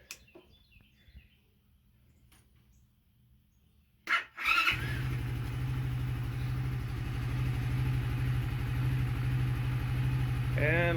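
An Icebear engine fitted with a new carburetor, cold and only started a few times. Faint rustling comes first, then the engine kicks in abruptly around four seconds and settles into a loud, steady pulsing idle.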